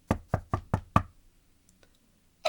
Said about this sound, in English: the minute I knocked on the door